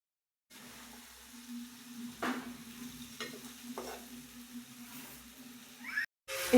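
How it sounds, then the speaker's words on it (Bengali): Taro stolons and a small potato sauté in a pan, a low steady sizzle broken by intermittent stirring scrapes and clinks, fairly quiet and close. "তো আমি এখন লতি দিয়ে ভালো করে এটা কষিয়ে নেব।"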